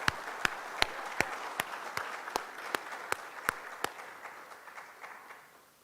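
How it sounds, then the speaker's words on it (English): An audience at an Albinism Awareness Day event claps in a brisk, even rhythm, sharp distinct claps over a soft wash of applause, fairly faint and slowly fading. "Let's give her a round of applause."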